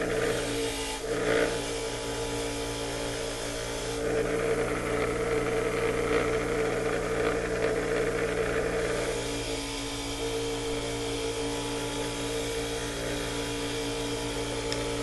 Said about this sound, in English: the easiest way for me to clean this up is going to be on the wire wheel